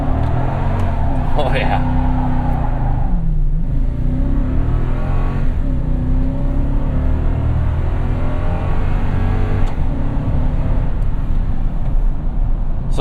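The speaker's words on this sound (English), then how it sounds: "Let's see if this thing will do burnout with this auto LSD." A 2017 Toyota Tundra SR5 4x4 TRD Off Road with an auto LSD and 6-speed automatic revs hard for a burnout, the engine roaring loud and close throughout, with a brief exclamation from the driver.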